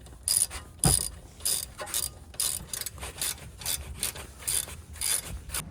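Socket wrench ratcheting on the brake caliper bolts of a Mercedes C-Class, with an 8mm socket holding a size 45 star bit, making a quick series of close, crisp clicking bursts in an uneven rhythm, with no voices.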